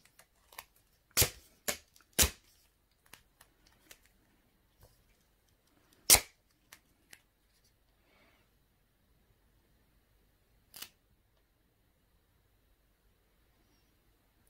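Scissors cutting paper for a handmade travel art portfolio: a few sharp, dry snips spaced apart in a quiet room, with faint handling clicks between them and a last isolated cut near the end.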